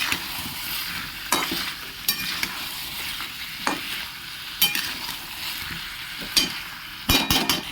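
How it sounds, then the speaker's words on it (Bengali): A spoon stirs fish curry with salt in a hot frying pan, a steady sizzle broken by sharp scraping clinks against the metal at irregular intervals, close and clear with no talking. "2 মিনিট ভালো করে নাড়াচাড়া করে"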